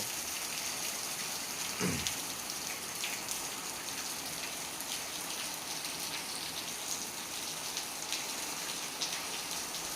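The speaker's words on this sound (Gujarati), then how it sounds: "વરસાદ બે દાડેથી વરી વહી રહ્યો છે તમે જોઈ રહ્યા છો" Steady rain falling in a village near Salangpur in Botad district, an even dense patter of drops on surfaces that continues throughout with no talk.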